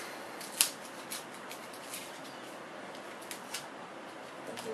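Scissors snip through tape on a HobbyZone Mini Super Cub model airplane repair: one crisp close cut followed by faint, scattered small snips over a soft background hiss.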